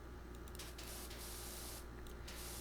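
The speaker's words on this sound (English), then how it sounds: "my spray still hits the van" A pressure washer in PowerWash Simulator 2 sprays a steady hissing jet against a van, a constant broadband rush with slight surges, heard alone.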